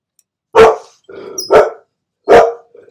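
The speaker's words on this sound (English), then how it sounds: "My dog always decides it's time to make a noise." A dog gives three sharp, loud barks at close range, with a brief growly sound between the first two, and no talking.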